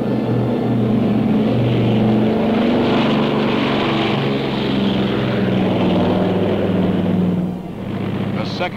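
An amphibian propeller aircraft on a Coast Guard sea rescue drones loudly and steadily nearby, its engine hum constant throughout with a slight shift in pitch near the end.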